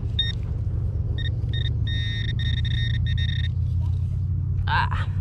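A Garrett Ace Apex metal detector gives several short electronic beeps, a few quick chirps then longer tones, over a steady low rumble, followed by a brief scraping noise while digging foil.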